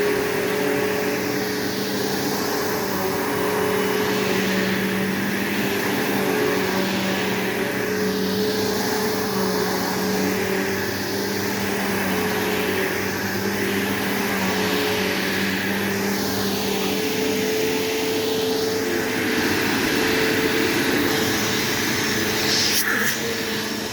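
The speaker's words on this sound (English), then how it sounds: "let's get this thing running for you so you can see how well it does" A 2006 Bissell Powerforce 3522-6 vacuum cleaner runs steadily with a loud, constant motor whine and airflow roar, close by and unbroken throughout.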